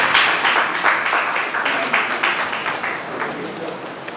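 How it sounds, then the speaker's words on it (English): An audience claps in a steady burst at the grand finale of the Teach 'n' Win reality TV show. The applause is fairly loud at first and gradually thins out over a few seconds. "A round of applause as it comes out."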